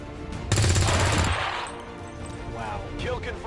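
Burst of automatic gunfire from a soldier shooting in XCOM 2, a loud rapid rattle lasting under a second, followed by fainter game effects and a voice.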